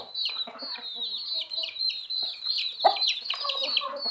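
Chickens clucking in a backyard flock raised by a beginner keeper, with repeated close, busy calls and short squawks layered over one another and no one speaking.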